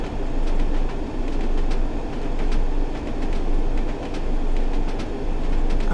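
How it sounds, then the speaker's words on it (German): A train in the Train Sim World 2 game on the Tees Valley Line runs with a loud, continuous rolling rumble and a regular clickety-clack of wheels over rail joints. "ist aber schon beruhigend mit dem Sound der Räder, wie sie klackern."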